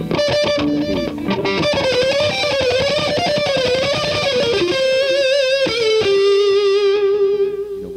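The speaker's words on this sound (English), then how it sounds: "with the distortion from the amp gives it a kick with each note" An electric guitar plays a fast solo phrase through amp distortion, loud and close, with sustained bending notes that shift pitch before settling on a held tone.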